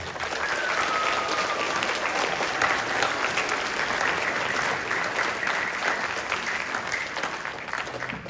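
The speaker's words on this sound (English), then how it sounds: "how about a big round of applause for our parents?" Applause from a songwriting concert audience for the parents of young musicians, a dense, steady wash of clapping that holds at an even level throughout the whole stretch.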